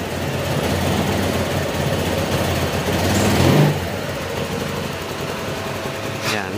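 A stock-engine Honda Click 150 scooter, just repaired after a no-start fault, runs steadily close by with a constant buzzing drone that swells briefly near the middle, with faint voices in the background.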